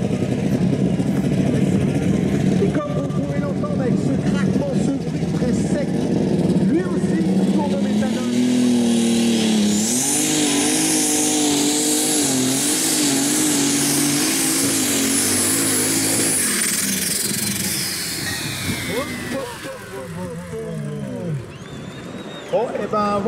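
A light modified race car with a Daf 1260 XF engine runs loudly nearby, its tone rising and wavering before tapering off, while people talk over it.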